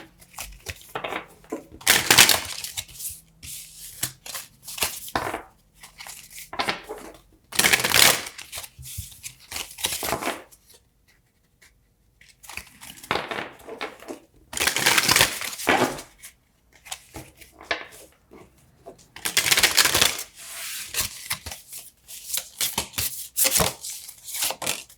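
Solomon Oracle cards being shuffled by hand, repeated bursts of riffling and sliding card noise with short pauses between, close and fairly loud, no talking.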